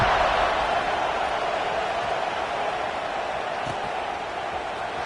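An American football stadium crowd roars loudly and steadily after a scoring drive, a dense, continuous wash of cheering with no clear individual voices.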